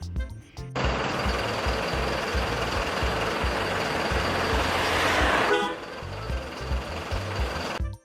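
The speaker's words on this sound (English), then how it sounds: "Metro bus. This is metro bus." Metro bus passing close by, a loud broad engine roar and road rush lasting several seconds, with a brief horn-like tone at the start and a dip as it moves off.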